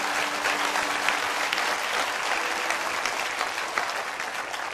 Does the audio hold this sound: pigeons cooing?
no